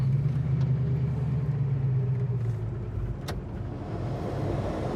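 A 1973 Ford Mustang Fastback drives up to a stop sign and brakes, its low engine rumble running steady and close before easing slightly as it slows.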